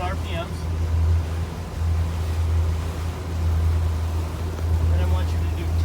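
A boat engine idles at about 1,200 RPM, a steady low droning hum that stays loud and constant, with faint water and background noise.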